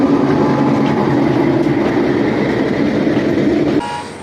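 At Daulatpur railway station in Bangladesh, a train rumbles loudly past an express train, with a horn sounding over the steady roar before the noise drops off abruptly near the end.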